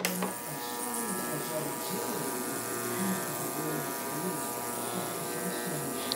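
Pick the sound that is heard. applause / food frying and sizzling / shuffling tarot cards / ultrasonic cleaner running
ultrasonic cleaner running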